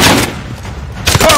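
Gunfire from the video game Call of Duty Modern Warfare, a loud, dense burst of shots with game chatter mixed in, swelling again near the end.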